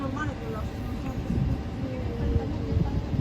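A route 33 vehicle passing on a road, a low rumbling drone that swells slightly toward the end, with faint voices underneath.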